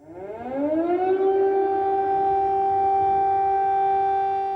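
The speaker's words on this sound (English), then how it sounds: "air raid sirens have been sounding across the country" An air raid siren in Kyiv, Ukraine, during the war winds up from a low moan to a loud, steady wailing tone that holds unbroken, with no voices.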